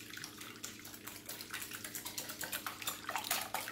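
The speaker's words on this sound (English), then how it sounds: "I've got 3 eggs. I'm going to beat those first of all with a whisk." A whisk beats three eggs in a bowl for banana pineapple bread batter, making quick, regular clicking strokes that grow faster and louder toward the end, close by and without speech.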